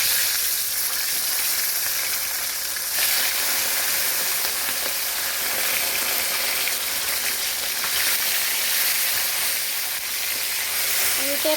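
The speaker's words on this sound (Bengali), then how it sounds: "এবার মাছের মাথাগুলো ভেজে নেব।" Fish heads fry in hot oil in a wok, giving a steady, dense sizzle that runs the whole time, with a faint scrape of stirring near the end.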